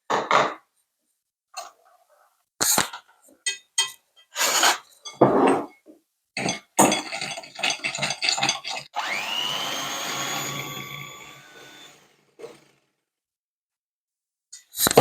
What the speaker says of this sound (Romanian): Îl batem cu mixerul.